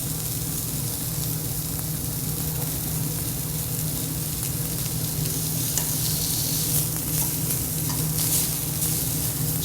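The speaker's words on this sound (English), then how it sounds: "We want these just nicely seared." Meat sears in a hot pan, giving a loud, steady crackling sizzle that runs unbroken throughout, with no one speaking.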